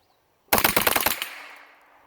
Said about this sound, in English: That was semi-automatic fire.